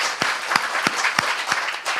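An audience claps in a hall in an even rhythm of distinct, regularly spaced claps, fairly close and steady, with no speech.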